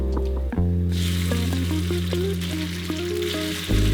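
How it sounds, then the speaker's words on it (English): Ginger being quickly stir-fried in oil in a pan before adding beef, a loud continuous close sizzle with occasional utensil scrapes and no talk. "Stir fry it quickly to release its flavor."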